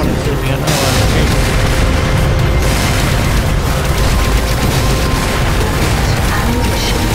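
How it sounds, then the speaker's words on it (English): High caliber cannon fire booms dense and loud in the GUNHEAD video game, a continuous barrage of heavy blasts mixed with game effects, with a voice talking over the gunfire. "Oh, boy, do I love high caliber cannons."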